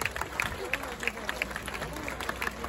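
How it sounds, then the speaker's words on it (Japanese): A festival crowd at a Hakozaki Shrine Hojoya taiko performance claps to welcome a djembe player, scattered but steady applause heard at moderate distance with faint voices beneath. "皆さん大きな拍手でどうぞよろしくお願いいたします。"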